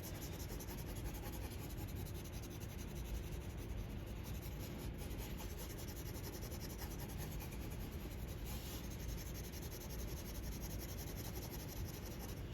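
A pencil shading a cone drawing makes a soft, continuous scratchy rubbing, close and quiet with steady strokes and no talk.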